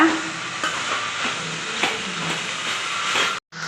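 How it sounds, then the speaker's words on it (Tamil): Drumstick leaves sautéing in a pan for a Tamil poriyal, giving a steady close sizzle and hiss with faint stirring scrapes throughout, broken by one brief drop near the end. "நம்ம கீரை எல்லாத்தையும் சேர்த்து நல்லா வதக்கிட்டோம் இது நல்லா அப்படியே வேகட்டோங்க"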